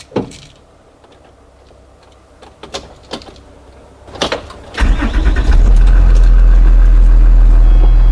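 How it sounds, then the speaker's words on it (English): A school bus with an Allison transmission engine cranks over after a few clicks and rattles, then catches and settles into a loud, steady low rumbling idle. "Now I'm going to start the engine."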